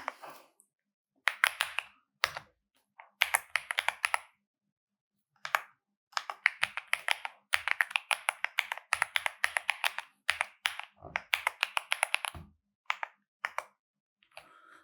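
Keyboard typing while code is written in the Odoo programming framework, coming in bursts of quick clicky keystrokes separated by short pauses, moderately close and alone with no talking.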